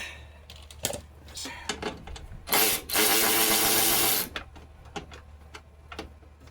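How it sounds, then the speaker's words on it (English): A socket wrench with a 10mm socket undoes bolts on the door of a 2009 Nissan Xterra. Close, sharp ratcheting clicks come in short runs, with one louder sustained burst of about two seconds in the middle and no speech. "most of these are using 10mm socket to undo the two bolts right down here"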